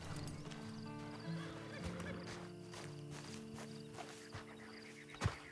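A horse in the video game Red Dead Online whinnies and clip-clops at close range over a steady game soundtrack, with a sharp thud near the end.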